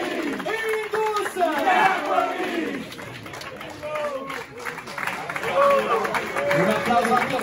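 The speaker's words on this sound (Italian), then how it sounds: "Un applauso anche per Idus" A basketball crowd at a Pallacanestro Varese player introduction cheers and chants continuously, with loud shouting voices and applause filling the whole stretch at close range.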